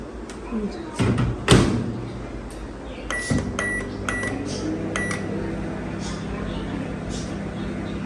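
A microwave oven is set for two minutes: a few sharp clicks and a door shutting, then a quick run of beeps from the keypad, followed by the oven's steady low hum, with a person talking over it.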